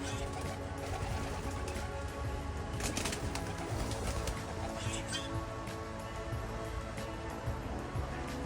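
Homing pigeons coo softly from trees in a breeze, with a steady outdoor wash of wind and background noise throughout.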